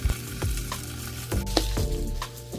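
A cowboy rib eye steak sears on a grill, giving a steady, close sizzle with a few sharper pops and clanks of handling.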